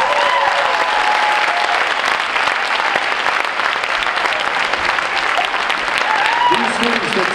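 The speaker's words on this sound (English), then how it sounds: "Can you please give them a huge round of applause?" Sustained applause from a large crowd at a student leadership debate, dense and continuous clapping that holds steady throughout, with faint voices mixed in.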